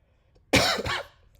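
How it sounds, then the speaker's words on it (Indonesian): A single close cough, a rough burst followed by a second shorter one, from a presenter recording a lesson on array operations, heard alone against a quiet room. "sorry kalau ada batuk-batuknya karena saya masih batuk juga ini"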